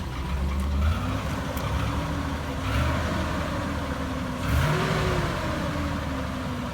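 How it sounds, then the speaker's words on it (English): A Chevrolet Silverado truck engine with a rod knock revs up steadily and fairly loud, its rumble rising and falling in a few pulls over a constant running drone, with no talk. "Hey, rev it up."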